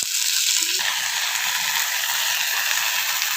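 Turkey berries sautéing in hot oil with garlic for a spicy tamarind curry, giving a continuous dense hiss of frying, close and steady, with a brief clack near the start.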